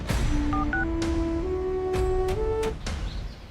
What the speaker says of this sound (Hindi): विक्रम, जरा मुझे फोन लगा कर दो, आज जी से कुछ जरूरी बात करनी है।